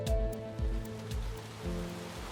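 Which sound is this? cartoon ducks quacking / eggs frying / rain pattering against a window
rain pattering against a window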